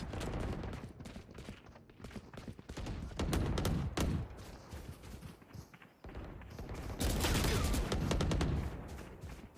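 Rapid bursts of video game gunfire crackle throughout, with dense volleys swelling loudest near the middle and end, broken by brief pauses.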